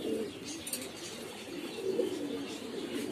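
Mayurpankhi pigeons at a pigeon farm give soft, low cooing that hums steadily through the clip, with faint chirps and a bit of background noise around them.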